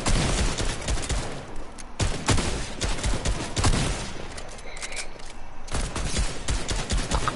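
Shotgun fire in an online video game, a series of loud broadband blasts every second or two over a steady, busy game soundscape, with no talking.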